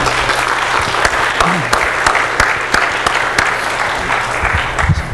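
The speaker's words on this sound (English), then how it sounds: "Let's give him another cheer." An audience at an academic lecture gives dense, steady applause, loud and close, with a few sharper individual claps standing out and a faint voice underneath.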